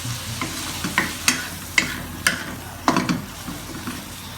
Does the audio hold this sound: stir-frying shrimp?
yes